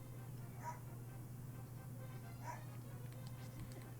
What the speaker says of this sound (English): Sorry about the dog barking in the background.